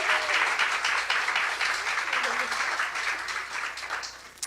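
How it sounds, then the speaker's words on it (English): Warm audience applause greets an author at a book launch event in downtown New York City, steady clapping that swells at the start and gradually thins out toward the end. "Let's give her a warm round of applause."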